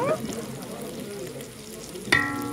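Chopped onion hitting a little hot oil in a pan for a duck dish with vanilla and passion fruit, giving a steady low sizzle with stirring, plus a sharp clatter near the end.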